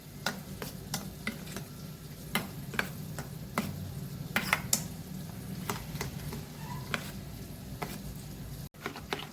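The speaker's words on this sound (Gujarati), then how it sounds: "તો બધું આપણે મિક્સ કરી લઈશું." Red chili, turmeric and coriander-cumin powder being mixed into yogurt in a bowl make quiet, repeated spoon taps and clicks against the bowl in an irregular rhythm over a soft background hiss.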